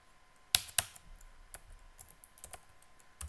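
Keystrokes on a computer keyboard while entering backup settings on a FreeBSD system: a couple of sharp clicks followed by scattered lighter taps, close and fairly quiet, with no talking.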